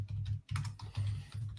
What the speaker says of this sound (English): I am typing up the banner for the 3 strikes trivia question